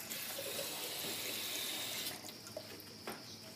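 Water runs into a 1-liter laboratory beaker, a steady broadband rush that is close and fairly loud, then drops to a softer trickle partway through as the flow eases, with no voices.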